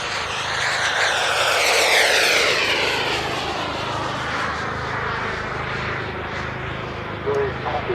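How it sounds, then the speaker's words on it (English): A model airplane powered by a JetCat turboprop engine flies past at an outdoor model airshow, a rising and falling turbine whine with propeller drone sweeping in pitch as it passes, loud and steady, with a voice talking over it. "It's powered by a JetCat turboprop engine, which works in the same way as the full-size turboprop"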